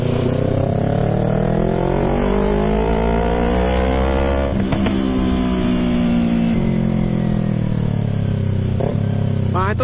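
A Harapan Jaya double-decker bus, a Scania K310 or K410 IB, rumbles past close by with a loud, rising and falling engine drone and a steady low roar that swells and fades across the pass.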